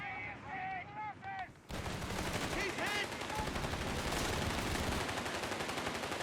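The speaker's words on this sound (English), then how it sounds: "Machine gun inside this building here." Machine gun fire in the real-time strategy game Company of Heroes 3, a dense, continuous rattle of automatic bursts that fills most of the clip after a brief quieter opening with whistling tones.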